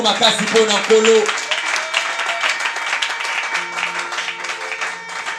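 Congregation at a French-speaking worship service giving God a loud round of applause, a dense wash of clapping with shouting voices rising over it at first, then continuing as steady applause.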